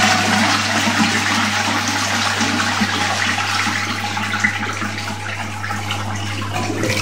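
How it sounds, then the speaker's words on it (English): An unusual toilet in Ireland flushes with a loud, steady rush of water that continues for several seconds alongside a constant low hum, with no talk over it. "Watch what happens when I flush."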